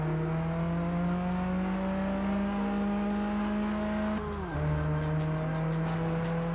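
A car drifts in Test Drive Unlimited on PS2, its engine droning steadily at high revs with a shift in pitch partway through, while tire noise hums continuously underneath, loud and close.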